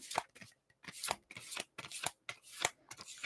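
Large tarot cards being shuffled by hand in a quiet room, a series of crisp riffling bursts at an irregular rhythm, close and clear with short pauses between them.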